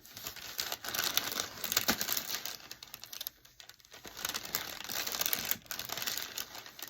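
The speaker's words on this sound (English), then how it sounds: "And I got my parchment paper here." A holiday tag being ironed under parchment paper gives steady crinkling and rustling with scattered clicks and knocks, close and fairly loud, continuing without a break and with no voices.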